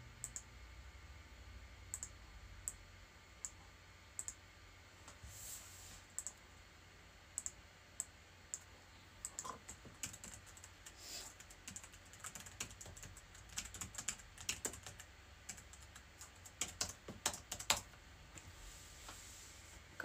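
Typing on a computer keyboard, with quiet, irregular key clicks that come in short bursts and grow busier toward the end, heard alone in a still room with no voices.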